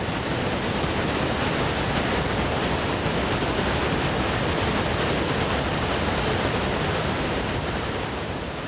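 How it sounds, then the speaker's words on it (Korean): The largest and grandest waterfall in Laos, about 300 meters wide, roars in a steady, dense wash of rushing water, loud and unbroken throughout, with no voices. "라오스에서 가장 크고 웅장한 폭포인데요"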